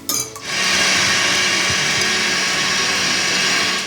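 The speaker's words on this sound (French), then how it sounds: "je vais mettre ma crème à monter en chantilly" An electric mixer whips cream of 30-35% fat into chantilly, starting with a brief clatter and then holding a steady, loud, whirring buzz that continues evenly and up close.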